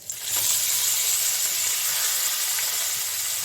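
Sliced onion dropped into hot oil with whole garam masala, a sudden bright sizzle that swells and then holds as a steady, close hiss.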